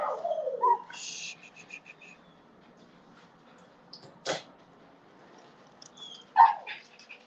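A dog gives a short low vocal rumble at the start, then the room goes mostly quiet apart from a couple of faint clicks and a brief sharp noise near the end.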